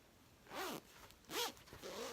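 A zipper on a soft baby swaddle by Grow is drawn in two quick pulls with a shorter third tug, each a close, crisp rasp of teeth in a quiet room.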